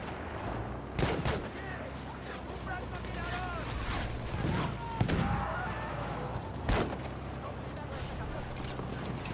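Scattered sharp gunshots crack through a busy Battlefield 1 game soundscape, a few loud bursts spaced several seconds apart over steady background rumble and distant voices.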